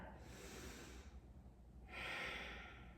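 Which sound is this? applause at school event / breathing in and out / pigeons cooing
breathing in and out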